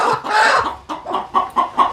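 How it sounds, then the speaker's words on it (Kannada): A free-range country hen clucks loudly and close while being chased to be caught, giving agitated squawks followed by a run of short, rhythmic clucks in quick bursts. "ನಾಟಿ ಕೋಳಿ ರಿಯಾಲಿಟಿ ಇದು ಹಾಗಾಗಿ ಹಿಡಿಯೋಕ್ಕೆ ಸ್ವಲ್ಪ ಓಡಾಡ್ತಾ ಇದೆ"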